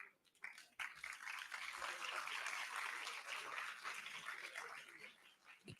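An audience at a crypto and Web3 conference event gives a round of applause, a steady wash of many hands clapping that swells and fades over a few seconds, heard faint and distant.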